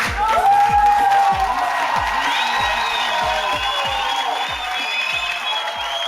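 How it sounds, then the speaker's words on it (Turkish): A live comedy audience claps and cheers loudly for comedian Hakan Türkmen, a dense burst of applause and whoops that gradually thins while steady rhythmic music thumps beneath it. "Hakan Türkmen için çok büyük alkış."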